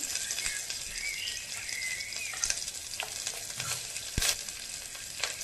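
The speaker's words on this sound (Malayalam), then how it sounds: "പിന്നെ നമ്മുടെ ഉള്ളി ഇട്ട് കൊടുക്കാം." Onion, ginger and curry leaves fry in a pan with a bright, crackling sizzle that stays close and steady. Scattered spatula scrapes and stirring clicks sound through it, with one sharp knock near the end.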